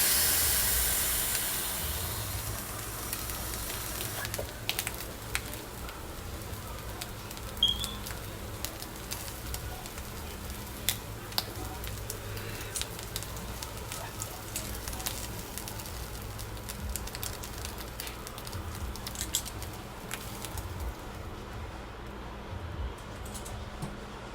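A hot griddle being cleaned hisses steadily with steam, a continuous broadband sizzle with scattered small crackles and pops throughout, no voices.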